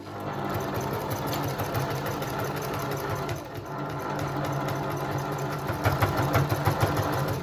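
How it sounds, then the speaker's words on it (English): A sewing machine stitches quilt binding down from back to front, running as a steady, close mechanical whir that grows louder and more rhythmic toward the end. "We're just going to finish it, pulling the binding round from the back to the front and stitching it down."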